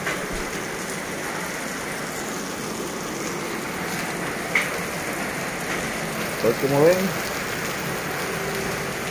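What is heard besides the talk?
rain from Hurricane Nora in Acapulco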